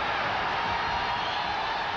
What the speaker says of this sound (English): Crowd roaring, but not much happened from Pazienza's point of view.